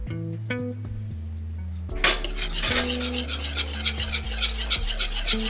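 A spoon scrapes and rubs around a bowl while stirring a Russian salad mixture with yogurt and condensed milk, with close, steady rasping strokes over a faint music bed.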